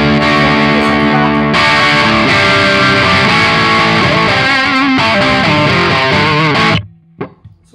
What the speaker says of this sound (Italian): In questo caso è stato aggiunto questo delay lunghissimo filtrato.